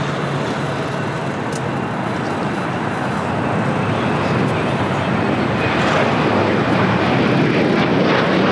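An Alaska Airlines airliner at LAX roars steadily and loudly throughout, a broad continuous jet engine rumble with no talk.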